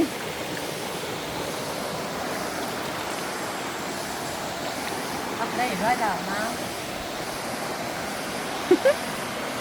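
Waterfall at Ton Phrao in Krabi, a steady broadband rush of falling water filling the whole clip, with someone talking over it and brief louder splashes near the end.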